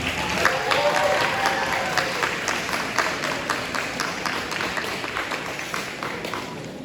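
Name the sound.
audience applause at a school sports banquet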